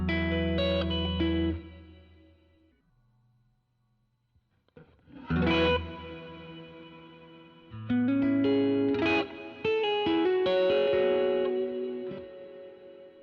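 Guitar played through a Meris Mercury X reverb pedal, with sustained chords swelling into lush, washy reverb tails that carry a touch of grit and hiss, separated by a near-silent pause.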